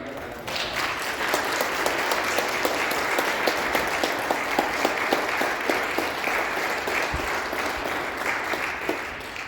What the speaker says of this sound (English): could you please give me another round of applause?